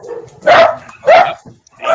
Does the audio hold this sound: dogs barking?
yes